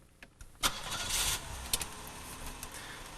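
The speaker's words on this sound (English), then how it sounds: "Start the vehicle" A 1992 Buick's engine cranks and catches, a brief starter whir rising into a steady idle, heard from inside the car at moderate volume.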